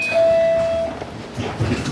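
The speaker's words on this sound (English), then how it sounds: "So I'm here on the train. We're just going on the train here. On a fun little train ride. Or streetcar ride." A streetcar rolls along St Clair West with a steady, close rumble from the rail car and a brief high whine near the start that fades under the continuous running noise.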